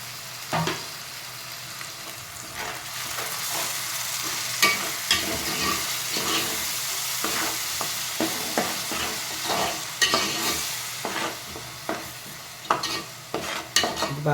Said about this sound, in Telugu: బాగా చెక్కబడి దగ్గరకు వచ్చేదాకా వేపిద్దాము